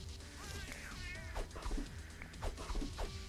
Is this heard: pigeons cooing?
no